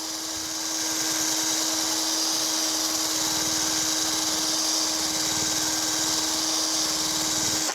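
Wire brush spinning on a drill, scouring dust and rust from a rear brake caliper of an L322 Land Rover Range Rover; a loud, steady high-pitched whir with a constant tone that runs unbroken throughout.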